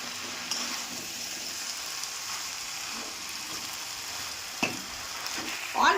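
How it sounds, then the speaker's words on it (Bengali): Gourd leaves and fried fish stirred in a pan, a steady soft sizzle running throughout with a few sharper scrapes of the spatula near the end. "আবারও নেড়ে নিচ্ছি"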